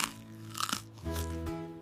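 Someone in a kids' cartoon chews a sandwich. A loud, close crunch is followed by a couple of sustained chewing sounds mixed with tonal cartoon music.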